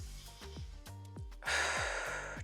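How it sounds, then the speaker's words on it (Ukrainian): A breath sound, like a deep exhale, rises loudly and lingers near the end over a plucked bass-heavy music track during a short morning lymphatic-drainage exercise routine. "Обов'язково дихаємо, синхронізуємо то все з диханням. Вдих, видих."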